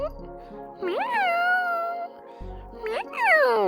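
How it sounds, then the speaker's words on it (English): A cat meows twice, a rising-falling tonal call, then a second sharper one, close and clear with faint room background. "Oh, we have a meow."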